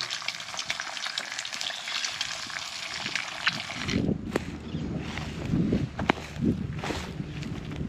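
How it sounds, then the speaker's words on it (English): Bacon frying in a pan outdoors, a steady close hiss of sizzling fat that grows choppier partway through, with light clatter as it is stirred or turned. "the sizzling of bacon."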